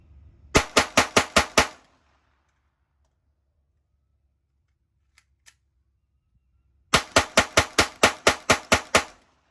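A Glock G44 .22LR pistol fires two fast strings of sharp, cracking gunshots, about five rounds at first and roughly nine after a long silence. A couple of faint clicks fall in the gap between the strings.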